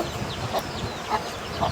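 Reza breed hens, about four months old, give short clucking calls about every half second over a busy farmyard background. There are three distinct clucks at moderate distance.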